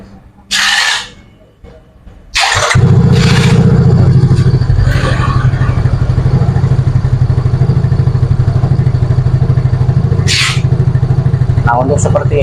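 A Yamaha Fino 125 scooter engine, its throttle body just cleaned, cranks and catches after a short quiet pause, then settles into a steady, close idle that runs unbroken to the end.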